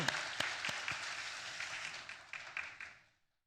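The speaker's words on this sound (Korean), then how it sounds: "우리 하나님께 영광의 박수를 올리겠습니다" A church revival congregation applauds with dense, steady clapping that fades out and stops after about three seconds.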